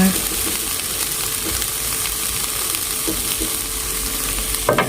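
Bean sprouts tossed in a still-hot pan, an even, loud sizzle with scraping stir-fry motions and a few clanks of the spatula toward the end.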